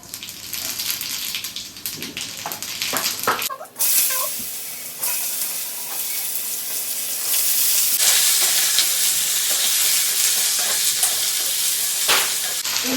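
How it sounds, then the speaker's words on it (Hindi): Cumin seeds hit hot oil and crackle into a loud, bright sizzle that swells after a brief pause, with occasional clinks and stirring; no speech. "ऑयल अच्छे से गर्म हो गया है, इसमें हम डालेंगे मसालेदानी से"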